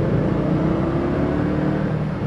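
A 2015 Indian Scout motorcycle's exhaust rumbles loud and steady inside a tunnel, a dense low drone echoing off the walls without clear rev peaks, with no voices.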